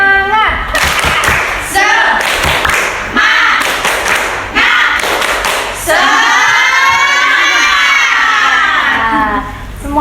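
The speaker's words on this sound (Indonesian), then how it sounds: "Tepuk semangat." Children in a Grade 4 classroom chant loudly in unison with rhythmic group claps in bursts, ending in sustained shouting and cheering close by.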